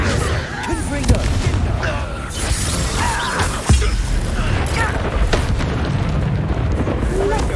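In a Harry Potter video game, the Confringo explosion spell sets off booming, crackling blasts amid ongoing magical combat noise, with a sharp burst partway through, under a player's spoken spell calls.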